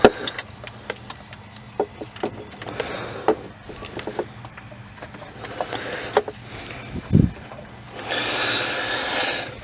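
A socket wrench with an extension works on a Toyota Sienna engine during a thermostat replacement, giving scattered metallic clicks and ratcheting taps at close range, with a brief louder clatter partway through and a steadier mechanical rasp toward the end.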